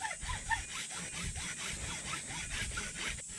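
A hacksaw cuts at a steep angle through material for a homemade bank fishing rod holder, giving a steady run of rasping back-and-forth strokes close by, with a faint squeal now and then and no talk.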